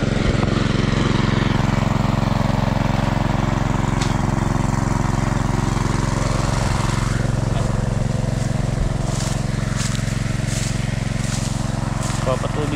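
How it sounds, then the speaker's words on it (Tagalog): A Robin engine drives a water pump irrigating an eggplant field at midday, droning in a steady, unbroken idle-like hum throughout while a person talks over it. "Kaya nagpandar tayo ng robin ngayong tanghali para patubig si Bato rito sa talong."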